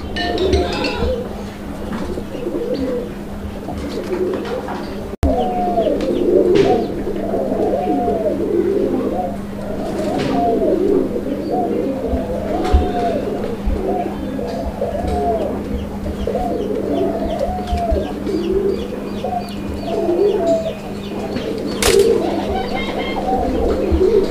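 Madrasi Golla pigeons coo in a steady, repeated run of soft calls, close and continuous, with faint clinks and a low background hum.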